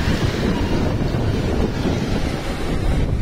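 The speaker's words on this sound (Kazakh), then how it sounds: "Шамал бар, толқын бар, бәрі бар." Wind buffets the microphone on a Lake Balkhash shore while waves wash in, a steady, loud, unbroken roar with no talking.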